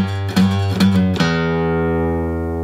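A few plucked acoustic guitar notes and chord stabs in quick succession, ending on a chord left ringing out and slowly fading.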